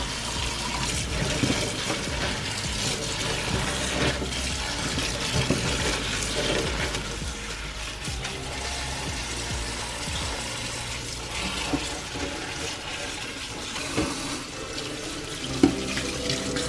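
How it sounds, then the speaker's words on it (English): Tap water running steadily into a sink while chile peppers, including lemon drop peppers, are rinsed, a continuous splashing stream with small bumps of handling and no talking. "we're gonna rinse them all together."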